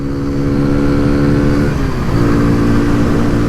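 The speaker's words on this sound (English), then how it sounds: "This is a 2023 Kawasaki Z125." A 2023 Kawasaki Z125 motorcycle engine pulls loud and close in a steady accelerating drone, its pitch climbing, dipping briefly at a gear change, then rising again.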